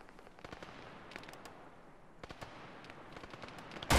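Gunfire crackles through a military video game firefight outside a factory, distant scattered single shots and short bursts that are faint and irregular, ending in one louder close blast.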